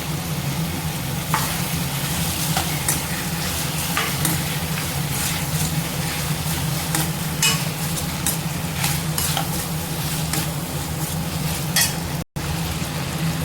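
Tomato and diced potato sauté in a pan for egg kozhambu, giving a steady close sizzle with scattered stirring scrapes and clinks that run unbroken throughout, no voices present.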